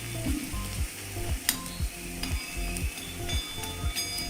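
Garlic sizzles steadily in a pan of oil while cooking for a sprouted horse gram kadhan, with a repeated scraping rhythm of stirring layered over the close, constant frying hiss.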